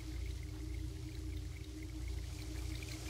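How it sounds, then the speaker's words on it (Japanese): Babbling stream ambience from the DS horror game Nanashi no Game, a steady low watery rush with faint trickling, continuous and moderately quiet with no talking. "川のせせらぎが聞こえる。"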